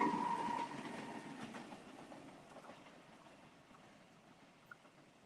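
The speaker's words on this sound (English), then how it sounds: "That's the train." A train rolls past at a distance near a beach path, a low rumbling wash with a faint horn-like tone at first, gradually fading away with scattered light clatter and no talking.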